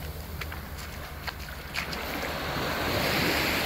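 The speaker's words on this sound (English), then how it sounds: "Unless the wind is starting to go crazy." Wind gusts roar against the microphone on Bonita Beach, Florida, mixed with a broad wash of surf that swells louder and steadier toward the end.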